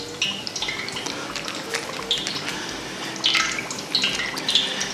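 A battered chicken nugget drops into hot frying oil, setting off a steady close hiss with scattered crackles and pops that swell and ease over a few seconds. No one speaks.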